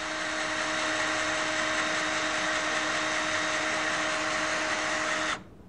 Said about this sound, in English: It's one of the things I like about that electric screwdriver, although it didn't hold its charge too good.